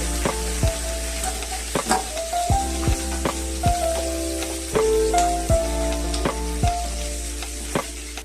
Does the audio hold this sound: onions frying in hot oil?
yes